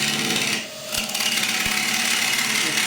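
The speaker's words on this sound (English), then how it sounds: "Good, turning green timber" Green hardwood bowl spinning on a wood lathe as a gouge cuts it, giving a steady, close, continuous rasping scrape with a brief dip early on and a couple of low knocks.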